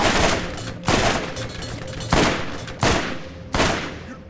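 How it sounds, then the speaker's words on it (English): Gunfire in the video game Borderlands: five heavy, booming shots spaced roughly a second apart, each with a long rolling decay that fills the gap before the next blast, with no voices. "Shooting!"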